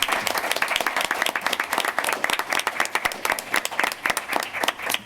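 Audience applause for students at a school board of education meeting, continuous brisk clapping from many hands with sharp individual claps standing out, moderately loud and sustained across the whole stretch.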